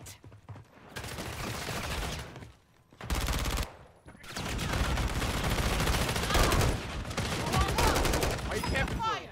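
Sustained video game gunfire in long, dense automatic bursts, loud and close, broken by a couple of short pauses, with a voice faintly under the shooting.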